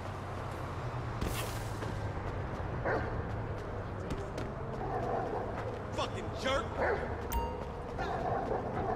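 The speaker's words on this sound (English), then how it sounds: "Come on, Chop. Come on. Go bite his ass" A dog barks and yips repeatedly in the video game GTA 5, with short excited yelps scattered across a noisy scene of engine rumble and street sounds, while voices talk over it.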